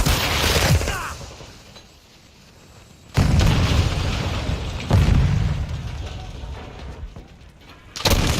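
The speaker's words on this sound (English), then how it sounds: "Smoke grenade! Flash incoming!" Flashbang grenade going off in a shooter video game, a heavy booming blast followed by a roaring burst and a second sharp bang near the end, loud and close amid game noise.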